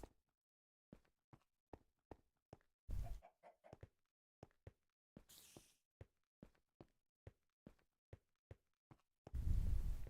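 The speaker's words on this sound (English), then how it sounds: "Why do I hear chickens?" Blocky Minecraft chickens cluck in short, scattered calls amid a steady run of soft, evenly spaced footstep taps, with a few louder rustling bursts in between.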